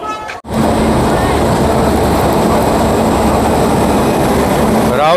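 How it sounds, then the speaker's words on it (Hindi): A freight train hauled by a Rourkela-based WAG 9 electric locomotive rolls into Kharsia railway station, giving a loud, continuous rumble and rattle of wagons that starts suddenly after a brief gap and stays steady and close throughout. "राउरकेला के WAG 9 ट्रेन्स फ़िलहाल एंटर कर रहे हैं Kharsia railway station freight train के साथ"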